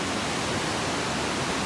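Water plunging down Bhorle waterfall makes a continuous, full-bodied hiss and roar, unbroken and uniform from start to finish, with nobody talking.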